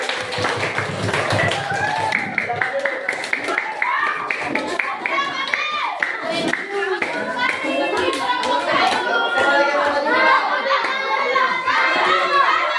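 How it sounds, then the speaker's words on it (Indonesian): A classroom of students claps together, loud, dense applause from many hands that builds and carries on for several seconds, with children's chatter mixed in. "kita berikan tepuk tangan"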